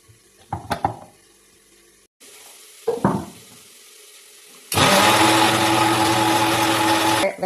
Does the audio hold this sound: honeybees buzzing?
no